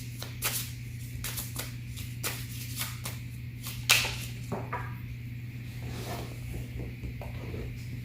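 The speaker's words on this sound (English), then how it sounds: "I shuffle these decks." A tarot and oracle card deck is shuffled by hand in repeated quick riffles and soft slaps, close and fairly quiet over a steady low electrical hum.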